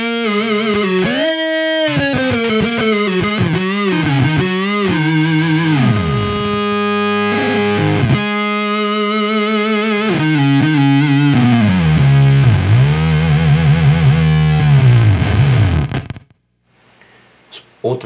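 Electric guitar played through a Beetronics Swarm fuzz pedal, loud buzzing fuzzed notes with wobbling, pitch-bending synth-like tones, sustained lines and sliding phrases for about sixteen seconds, then cutting off to near silence.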